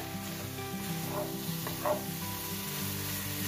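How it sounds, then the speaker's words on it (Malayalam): Chicken perattu sizzles steadily as it dry-fries in a pan, with a couple of soft scraping stirs standing out midway and no voices. "ഇതുപോലെ നന്നായിട്ട് വരട്ടിയെടുക്കണം"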